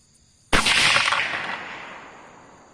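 A single sharp gunshot from a .224 Predator (.22 Grendel) rifle fired outdoors at a target, with a loud sudden crack followed by a long decaying echo.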